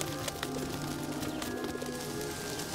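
Pigeons coo in soft, repeated low calls that run steadily throughout, fairly close, over a constant outdoor background with no voices.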